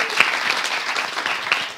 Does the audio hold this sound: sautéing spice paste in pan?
no